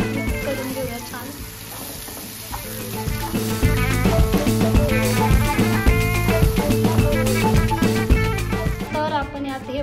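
Masala paste for shak bhaji sizzles and crackles in hot oil while being stirred, a loud, continuous frying hiss with bursts of spattering and scraping, and a voice talking underneath.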